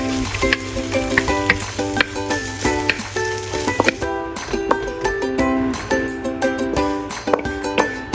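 Sizzling and crackling of eggs frying on their own in a hot wok, with clinks of a utensil and a steady musical backdrop throughout.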